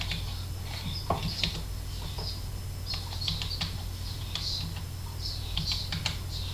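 Keys clicking on a computer keyboard as a DNS address is entered into Windows network settings, in short irregular bursts of taps over a steady low hum, close and fairly quiet with no talk.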